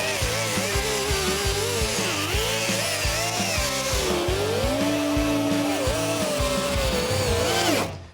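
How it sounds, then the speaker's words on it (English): An air tool grinding body filler off a car roof during a Mustang Foxbody wing install, a loud continuous high whine with a steady pulsing rhythm that shifts pitch slightly and cuts off abruptly at the end. "Don't get crazy here with your air tool and keep the RPMs down. We're just trying to get the filler off, not grind holes in the roof."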